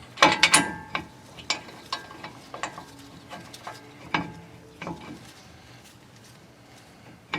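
Wrench ratcheting on a stubborn brake caliper bolt of a Ford F-series truck, a series of sharp metallic clicks and clanks in irregular bursts, close and loud, thinning out toward the end.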